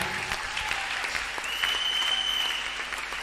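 A church congregation claps together during a worship service, a dense steady burst of applause with a faint sustained tone running beneath it, and no voices stand out.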